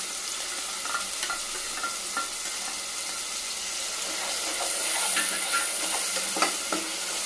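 Spinach puree being stirred into green pulao in a pan, a soft steady sizzle with scattered scrapes and clinks of the spoon, low and continuous with no talking.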